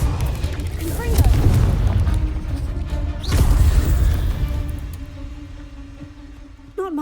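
Two heavy Confringo spell blasts in Hogwarts Legacy on PS5 land as deep, booming explosions, the second following a sharp whoosh, with fight noise and voices heard around them before the scene quiets.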